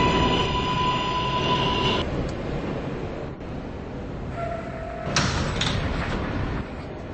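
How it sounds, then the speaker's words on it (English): A New York subway Q Express train in the station, with steady loud rumble and hiss, a tonal beep pattern, a pneumatic door burst and clatter, and a shifting electric whine near the end. "This is a Westpatop bound Q Express train"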